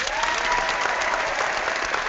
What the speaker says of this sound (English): Hold on, let me clap for you.